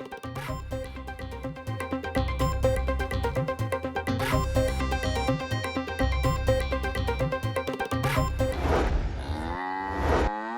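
Buffalo kept in pens within city residential streets in Lahore moo in long, loud, repeated calls over a dense, noisy background, with no voices.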